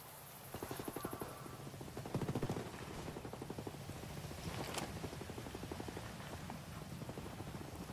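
Helicopter in the video game Ghost Recon Wildlands, a steady rapid rotor chop that stays fairly faint and continuous, with a few sharp bursts like distant gunfire mixed in.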